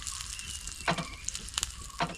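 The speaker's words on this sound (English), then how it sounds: "The mustard seed is frying." Mustard seeds, dry chili and curry leaves fry in hot oil, giving a soft sizzle broken by a few sharp popping crackles, close but fairly quiet.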